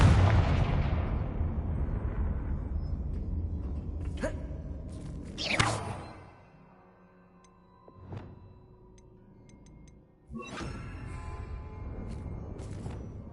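A Confringo blast spell going off in the Hogwarts Legacy video game, a burst of explosive crackles and booms over a steady game rumble, with a sharp hit near the middle and a lull before the noise swells again.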